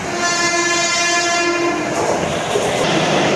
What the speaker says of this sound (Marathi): फास्ट ट्रेनची वाट बघता, फास्ट ट्रेन येईल आणि लगेच निघू